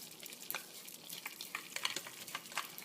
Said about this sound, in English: we're just gonna toss the rice